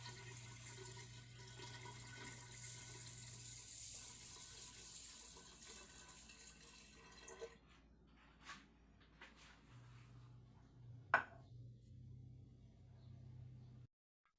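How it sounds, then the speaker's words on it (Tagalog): Water trickles and gushes steadily into a glass flower jar set up as a mini aquarium, a continuous close pour that thins out midway, followed by quieter handling sounds and a single sharp knock. "Dagdagan na natin ng tubig."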